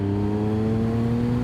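A Triumph Street Triple 675 motorcycle with a 15-tooth front sprocket pulls from low revs in sixth gear, its engine giving a steady, close, loud drone that holds firm throughout with no talking.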